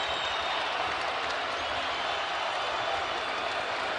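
A basketball crowd in Lubbock keeps up a steady, broad roar of cheering and noise inside the arena, loud and unbroken throughout.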